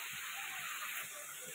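Spices sizzling in hot oil for a pabda fish curry, a steady close hiss of frying that fills the whole moment without any voice over it.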